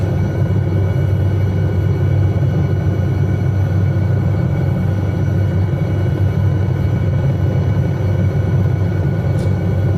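Steady, loud turbine-and-rotor drone of an SA315B Lama helicopter in Microsoft Flight Simulator, a continuous low rumble with a constant whine layered above, unbroken for the whole stretch with no voices.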